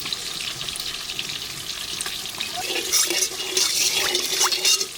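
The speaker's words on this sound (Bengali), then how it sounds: "দিদি এদিকে মাছটা ভাজতে থাকুক" Fish sizzling in hot oil in a home kitchen, a steady crackling fry that grows a little louder and busier partway through, close and without speech.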